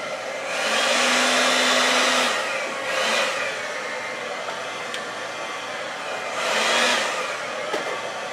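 A hair dryer blows across poured metallic acrylic paint for a Dutch pour artwork, roaring in three separate steady blasts with short quieter gaps between them, close and loud.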